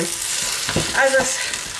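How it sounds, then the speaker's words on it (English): Steady frying sizzle of rice with a few scraping stirs in a pan, close by and fairly even in loudness, no voices. "I'm just going to continue to keep frying the rice"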